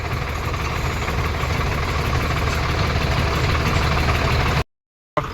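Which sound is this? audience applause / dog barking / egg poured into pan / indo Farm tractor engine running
indo Farm tractor engine running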